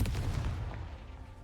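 A Confringo blasting spell goes off in Hogwarts Legacy, a loud, booming explosion with a heavy low rumble that fades over about a second and a half.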